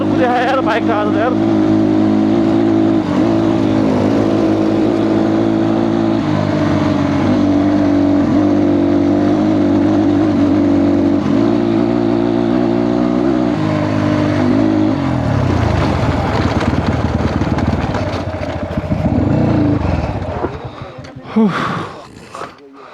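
Two motorbikes racing off-road on a dusty track roar with sustained revving that shifts gear and fades near the end into bumps and handling noise, with voices speaking over the engines.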